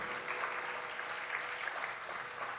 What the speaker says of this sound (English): Let's have a huge round of applause for this budding dancer